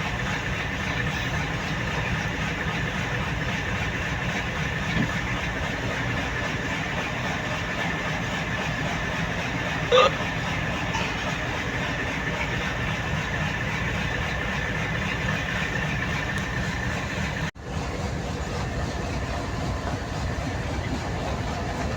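A big wooden fishing boat's engine idles in the Philippines, a steady low rumble with a continuous rhythmic chug held at an even level throughout, with no talk.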